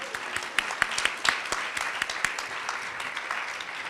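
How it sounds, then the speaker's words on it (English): A small audience at a women business owners' club meeting gives a round of applause, a few seconds of scattered, moderately close clapping with sharp individual claps standing out, with no talking. "Let's give her a round of applause."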